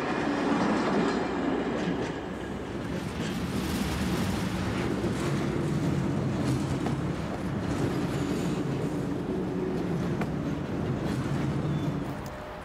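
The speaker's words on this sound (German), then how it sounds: "Die Einzelwagen werden den Ablaufhügel heruntergerollt." Single railway freight wagons roll slowly down a shunting hump with a continuous low rumble and faint wheel clatter, fairly close and steady throughout.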